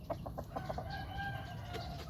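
Fighting roosters cluck in short bursts at a distance, faint against a steady rural background hum.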